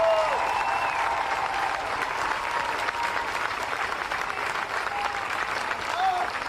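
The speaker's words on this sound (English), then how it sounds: "give yourself a round of applause" A crowd at a Black Lives Matter protest outside Kansas City City Hall applauds in a dense, steady wash of clapping that goes on throughout, with faint voices and shouts mixed in.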